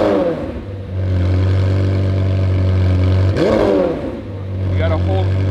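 An exotic car engine hums at a steady high idle, surges into a brief rev to 3,000 rpm midway, then settles back to a loud, even drone.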